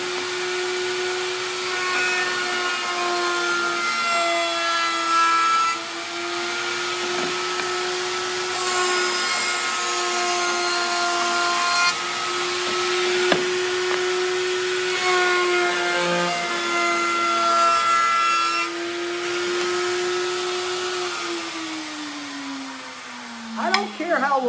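A power router whines at a steady high pitch while cutting oak, with small shifts in tone and a rise in pitch at the very end.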